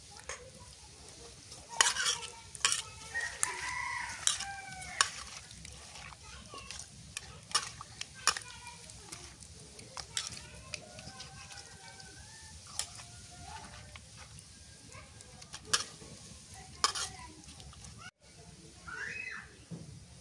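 Coral fish pieces are worked together by hand with sour yogurt and spices, giving close, wet squelching and mixing sounds in a steady, irregular rhythm with occasional clicks against the bowl.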